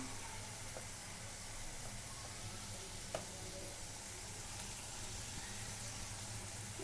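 Ginger frying in a pan in a home kitchen, giving a steady, even sizzle that runs throughout with a few faint clicks over it and no voices.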